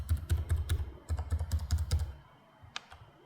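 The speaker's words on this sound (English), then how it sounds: "the STRIX feels and sounds more like a classic laptop keyboard" Quick, soft keystrokes tapping on an Asus ROG Strix G16 laptop keyboard in a steady burst, then tapering off to a few stray taps.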